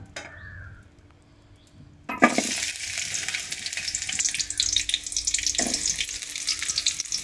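Chopped shallots drop into hot oil in a pan for a roasted-coconut chicken curry: a quiet start, then a sudden loud sizzle that keeps crackling strongly, close up, with a brief stirring scrape near the end.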